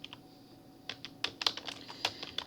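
Typing on a computer keyboard, a quick irregular run of close, crisp key clicks with small pauses between bursts, no talking.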